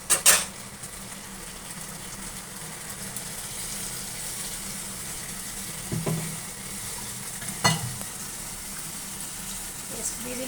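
Prawns sizzle and spit steadily in a hot pan with cashew poppy-seed paste, a continuous close frying hiss with a few louder clatters of stirring.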